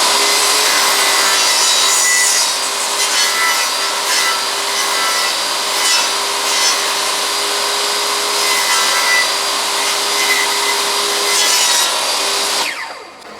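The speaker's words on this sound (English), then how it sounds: "So I'm going to make my first cut at 1/4 of an inch." A power saw cuts wood for rebuilding the dinette seating of a 1960 Shasta vintage camper travel trailer, a loud, steady high-pitched rasping whine that runs continuously before winding down at the end, with no talking.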